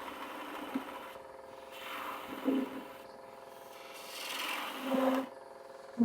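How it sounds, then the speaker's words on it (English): A 3/8 spindle gouge cuts wood spinning on a lathe, a soft continuous rasping hiss over the machine's hum that swells in several longer passes of the tool. "Using my 3/8 spindle gouge"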